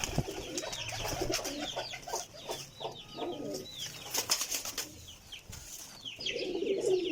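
Golden pigeons coo and murmur softly in a group, their low burbling calls repeating unevenly among faint rustling and scattered bird noises, with no one speaking.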